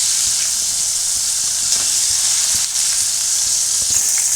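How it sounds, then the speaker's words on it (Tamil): Chicken frying in oil over a medium flame, turned golden brown on both sides: a steady, close, continuous sizzle with a bright hiss and faint crackles, no talking. "இப்போ இது 2 சைடும் நல்லா கோல்டன் ப்ரௌனாக ஃப்ரை ஆகிடுச்சு"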